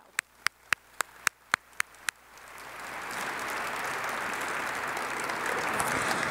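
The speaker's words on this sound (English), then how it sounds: "Could we please extend them a warm applause as well?" After a run of sharp, evenly spaced clicks, an audience breaks into applause that builds into steady, fairly close clapping and carries on to the end.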